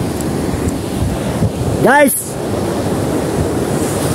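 Sea waves wash onto a beach during a team-building outing, heard as a steady roar of surf with heavy wind buffeting the microphone; a voice speaks briefly over the noise.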